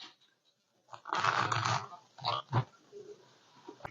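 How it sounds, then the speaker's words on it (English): A bite into a crunchy deep-fried chicken wing, a loud close crackling crunch lasting about a second, followed by a few shorter chewing crunches and mouth noises, with no speech. "Let's try deep fried wing."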